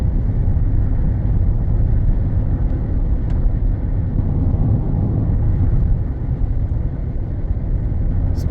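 Inside an XUV700 on a busy concrete expressway, a heavy low road rumble and engine drone run steadily through the cabin. The noise is continuous, with faint thumps from the bumpy slab joints and no talking.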